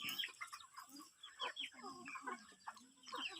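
A flock of backyard jungle-type chickens in rural Thailand clucking and calling as they come to eat rice before roosting, with overlapping, irregular chirps and clucks at close to mid distance and quiet background noise.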